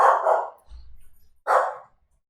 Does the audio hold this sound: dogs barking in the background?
yes